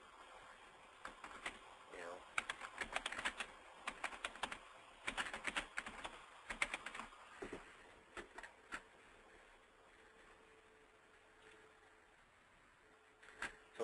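Individual keystrokes typed on a computer keyboard during work in banking software, a series of quick irregular clicks in bursts with pauses, faint and close, over quiet room tone.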